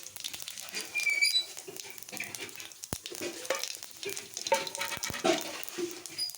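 Whole cumin seeds crackle and sizzle in hot oil in a home kitchen pan, with scattered sharp pops and light scraping, moderately loud and close throughout.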